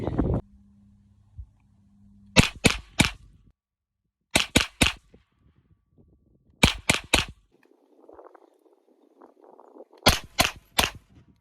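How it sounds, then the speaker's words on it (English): A 9mm carbine fires at a range in four bursts of three sharp, loud shots each, separated by short pauses, with faint rustling in one gap and no talk. "I'm going to shoot some triples"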